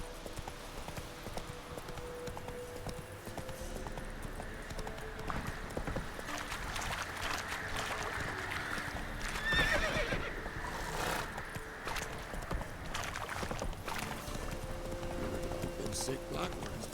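Roach, the horse in The Witcher 3, gallops with a continuous rapid clip-clop of hooves and lets out neighs and whinnies, mixed with game music, effects and spoken dialogue.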